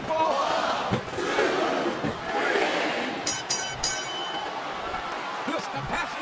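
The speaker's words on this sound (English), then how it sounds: "This capacity crowd is making their opinions known tonight." A capacity wrestling arena crowd roars and cheers continuously in the video game SmackDown vs Raw 2007, a loud, dense wash of voices with a few sharp metallic clinks partway through.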